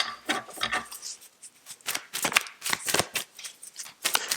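Tarot cards being shuffled and let fall, a steady run of crisp riffling bursts and soft papery slaps close by, with no talking.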